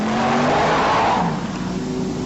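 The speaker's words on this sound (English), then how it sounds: "today, Ken Wood was testing it around his sponsor's factory in West Lothian" A 3.5-litre Rover V8 rally car under test around a factory site in West Lothian, its engine roaring loud and close as it accelerates and sweeps past, with tyre scrub audible and no voices over it.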